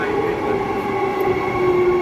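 An Ellenbrook Line train in Perth gives a steady, sustained hum and rumble close by, with no distinct clacks or squeals.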